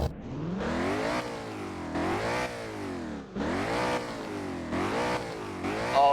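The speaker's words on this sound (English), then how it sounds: "this car is really loud. Let's see some revs." Ford Mustang GT500 engine in the Driving Empire video game, revving hard several times in a row with loud, rising and falling blips close up and no talk.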